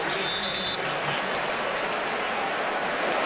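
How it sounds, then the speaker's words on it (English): Stadium crowd at an NFL game between the Dallas Cowboys and Green Bay Packers gives a broad wash of applause after a punt, a steady roar of clapping and cheering at even loudness, with faint talk mixed in. "Jacob Shum getting a rare round of applause."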